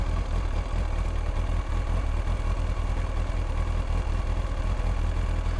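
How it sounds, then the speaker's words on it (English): An old used motorcycle engine runs steadily nearby, a loud continuous rumble with a throbbing low pulse and faint rattling over it, no voices. "try and listen out for the engine itself"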